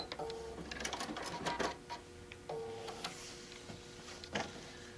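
A sewing machine stitching binding onto a fabric placemat made from a panel, its needle running in quick, steady mechanical bursts with brief pauses, quiet and close in a home sewing setting.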